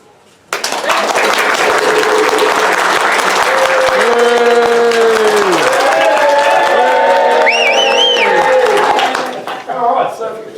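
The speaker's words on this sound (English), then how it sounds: "that is loud and thunderous applause" Loud, thunderous applause and cheering from a large crowd during a New Zealand trip, sustained for about nine seconds after a sudden start, with whoops rising over the clapping before it fades.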